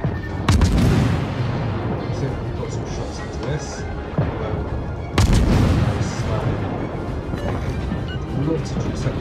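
Ship guns firing in World of Warships, two heavy booming salvos about four seconds apart, each a sharp loud blast followed by rumbling decay over a busy battle background.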